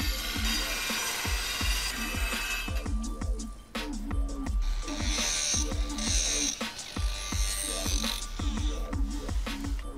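A tube notcher cuts a notch in metal tubing in a truck suspension fabrication shop, giving a steady run of rhythmic ratcheting clicks and metallic clatter from start to finish. The sound is close and mechanical, with no speech.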